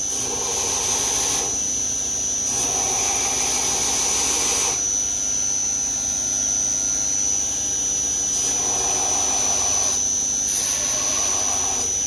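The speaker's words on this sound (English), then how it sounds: "Built up the time behind the machine so that I can grind proficiently and grind quickly" A grinder works a steel dagger blade during a knife build. A loud, sustained high-pitched squealing whine runs throughout, rising and easing in intensity as the blade is pressed to the belt and lifted away.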